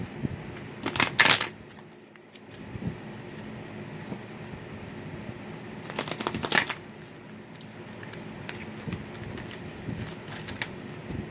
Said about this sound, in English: I shuffled these cards earlier, but I'm going to shuffle them again